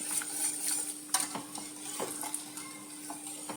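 A spoon stirs thick lentil payasam sweetened with jaggery in a pot, with soft scraping and clinking strokes over a faint bubbling and a steady background hum.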